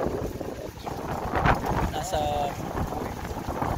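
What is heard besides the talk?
strong wind blowing into microphone outdoors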